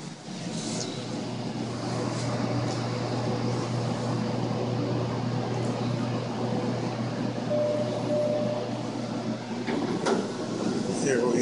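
An Otis Lexan traction elevator in a hospital parking garage hums steadily as it runs, with soft rumbling, a faint tonal whine and a few light clunks as the doors move.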